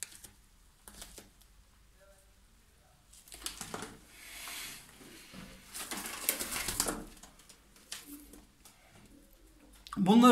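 Iraqi tumbler pigeons with feathered feet coo softly in short bouts, with rustling and fluttering nearby and a louder burst at the end; no talking.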